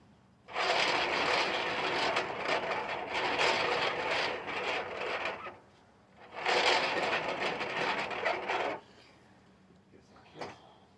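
A bandsaw cutting wood whines and rasps in two long passes, the first about five seconds and the second shorter, each separated by quieter gaps, with a few faint knocks at the end.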